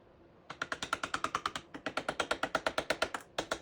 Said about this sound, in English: And make sure you're chiseling from both sides.